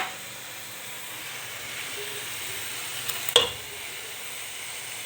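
Chopped onion and garlic fry gently in oil with a soft, steady hiss. A sharp clink of a utensil lands partway through, and the whole is quiet with no voices.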